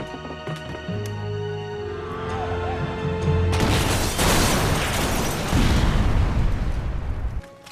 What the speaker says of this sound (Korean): 그렇게 버스가 폭발하며